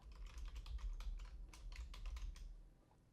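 Quick, light taps on a computer keyboard in a quiet room, a short burst of keystrokes that trails off toward the end.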